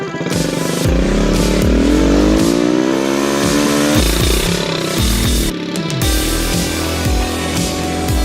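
A Honda CT90 motorcycle engine revs loud and close in repeated rising throttle bursts, with steady chugging between pulls and a brief dip midway.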